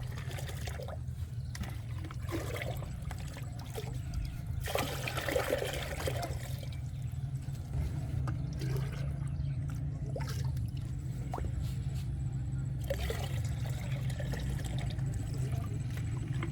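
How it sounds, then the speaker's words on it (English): Liquid garden fertilizer, biochar liquid and green plant liquid, poured from two buckets into a third container, with splashing bursts of pouring between quieter trickles and a steady low background hum. "pour equal amounts of liquid from both buckets into it"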